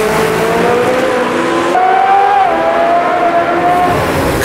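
A race car in a racing video game set on the 1971 Nordschleife, its engine droning steadily at high revs, then the pitch jumps as it drops to second gear and holds a loud, continuous whine throughout, with no talking.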